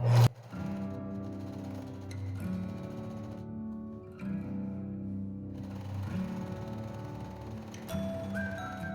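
A sewing machine runs in short bursts while stitching a seam on capri trousers, a quiet mechanical whir with brief pauses between runs.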